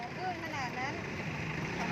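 A steady speedboat engine roars beneath people talking at sea near Ko Lan, Thailand, with constant rushing noise throughout.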